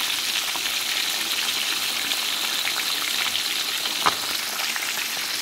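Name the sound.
food frying in a pan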